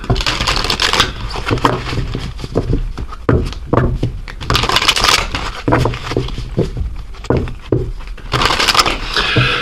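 Oracle cards being shuffled up close, a continuous loud crackling, slapping and rustling of cards with dense bursts throughout.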